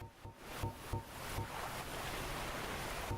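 Steady rushing water of a waterfall in Dark Souls, a broad constant roar with a few soft thumps near the start, heard alone without voices.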